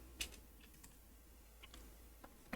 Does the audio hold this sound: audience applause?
no